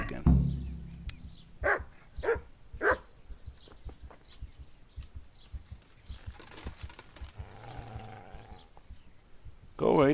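A dog in the medieval video game Kingdom Come Deliverance barks several times in short, spaced bursts, mid-distance, over quiet ambient game sound with faint background noises.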